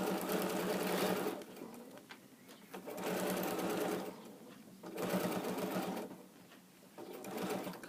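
A sewing machine stitches fabric around a corner, running in fast whirring bursts of a second or two, separated by brief slowdowns and pauses, close and steady with no talk.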